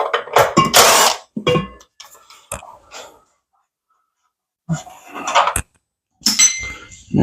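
Ratchet wrench loosening engine bolts on a Massey Ferguson 1655 mower with a Kawasaki FH680D engine, heard as close bursts of rapid clicking separated by quiet pauses.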